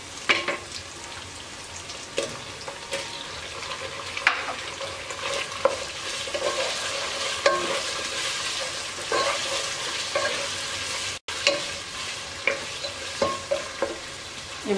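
Pieces of chicken meat fry in a hot pan with ginger, garlic and onion, a steady sizzle punctuated by frequent scraping and clacking of a stirring spoon, close and with no voices.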